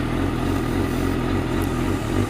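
Motorcycle heading out on a ride in fine weather, its engine droning steadily and close-up with constant low rumble and wind buffeting throughout, no talking.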